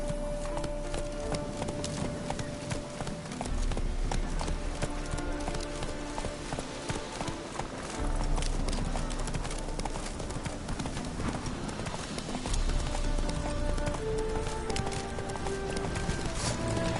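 Horse galloping in The Witcher 3: Hearts of Stone, a steady rapid clip-clop of hooves driving continuously under game music and ambience, close and prominent throughout.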